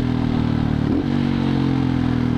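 A 2007 Husqvarna SM610 supermoto engine idles steadily close by, a deep, even thump with one brief blip in the throttle partway through.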